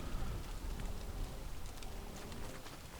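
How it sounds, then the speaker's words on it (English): Steady rain pattering on a tree canopy in the video game Don't Starve, a continuous dense patter with soft, faint bird cooing mixed into the ambience. "if we stand under here, the noise of the water changes to like a rain on a tree"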